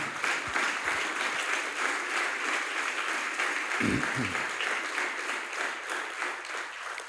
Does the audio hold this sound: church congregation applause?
yes